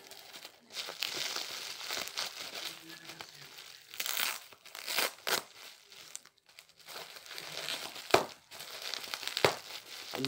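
Crinkly plastic bubble wrap handled during Christmas gift unpacking, with bursts of rustling and crumpling, some louder scrunches and sharp crackles over about ten seconds, close by and with no talk.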